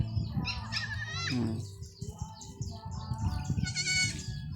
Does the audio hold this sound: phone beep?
no